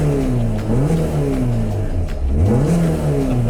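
A Honda B series engine revs hard into VTEC, its pitch sweeping up and down through repeated climbs, loud and close with a raspy mechanical edge.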